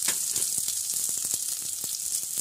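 Onions with long-sliced capsicum fry in a pan, a steady bright hiss of sizzling oil punctuated by faint ticks and pops, with no voices.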